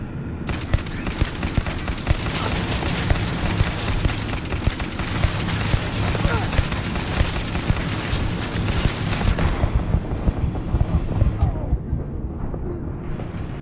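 Rapid continuous gunfire in the Starfield video game aimed at turrets, a dense sustained barrage of loud shots for about nine seconds before cutting off to quieter background.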